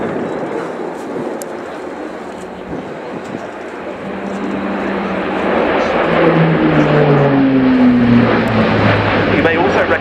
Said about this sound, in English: This is the most impressive large aircraft display that you are going to see this weekend